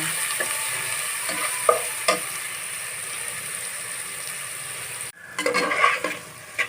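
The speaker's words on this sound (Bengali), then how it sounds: "সেই মশলাটা মশলাটা দিয়ে আমি ভালোভাবে কষিয়ে নেব" Steady hiss of a spice paste frying in oil with fried rohu fish, broken by a few scraping stirs of a spatula against the pan, then a short burst of louder stirring and clatter near the end.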